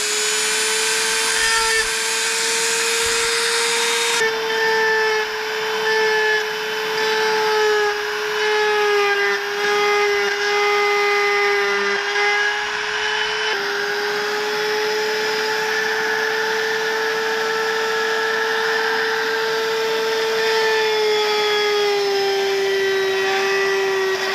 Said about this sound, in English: My bit was vibrating a little bit back and forth